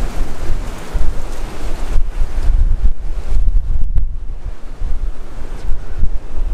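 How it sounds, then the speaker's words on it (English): Strong gusty wind at a coastal lookout in Port Douglas buffeting the microphone in heavy rumbling blasts, with surf faintly washing beneath and no voices. "I really wanna fly my drone, but it's just way too windy."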